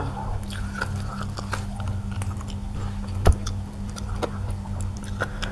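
Close, wet chewing and biting of crispy pork wrapped in soft rice noodles, a steady run of small crunchy and squishy bites with one sharper crunch partway through, with no talking.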